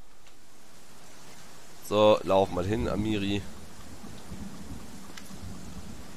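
Rain and rumbling thunder in the video game Pathfinder: Kingmaker form a soft steady wash, and someone speaks briefly over it partway through.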